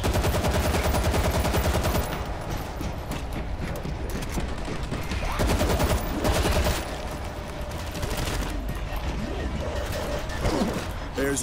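Rapid automatic gunfire in the video game World War Z, dense bursts of shots running almost continuously with short lulls, loud and close.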